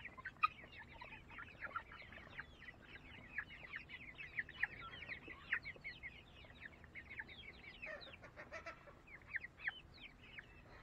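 A flock of chickens in a backyard coop clucks continuously, many short overlapping calls heard faintly at a distance with no speech.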